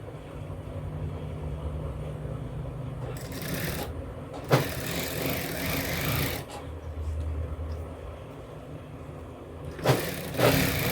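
A sewing machine runs steadily while stitching a blouse at home, its motor drone holding across the stretch with a few brief louder bursts and pauses.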